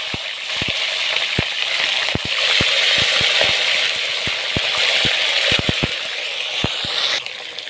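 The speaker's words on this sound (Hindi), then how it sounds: "एक कढ़ाई ली है, उसमें मैंने ऑलरेडी ऑयल डाल दिया है। अब ये चिकन को मैं फ्राई करूँगा।" Chicken pieces frying in hot oil in a kadai, giving a steady loud sizzle across the whole clip with frequent sharp pops and crackles, and no one talking.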